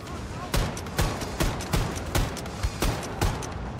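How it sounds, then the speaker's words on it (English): Shotgun fire in Wolfenstein II, eight heavy booming blasts at an even pace about every half second, loud and close over a busy background. "Was it some sort of shotgun?"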